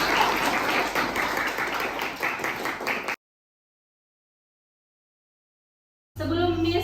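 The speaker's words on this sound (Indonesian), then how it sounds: "tepuk tangan untuknya." Dense applause from a group fills about three seconds, then silence, before a short burst of sound returns at the end.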